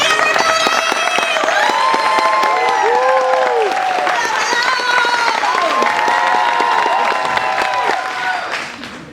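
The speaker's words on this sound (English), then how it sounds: "how about a nice round of applause for the host of today's show, Alex Ross" Loud, sustained applause with cheering and whoops from a theme-park show audience welcoming the host of a horror makeup show, dense clapping that stays strong for several seconds before starting to fade at the end.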